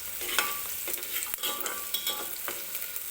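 Onion being stirred and fried for a spicy dry mutton curry, a soft, steady sizzle beneath repeated close spatula scrapes and taps on the pan, fairly quiet, no voices.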